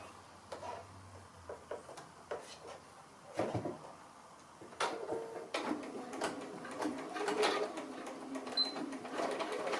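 A sewing machine runs in a few short, faint bursts as it stitches backwards and forwards, with light clicks and handling noises between the runs.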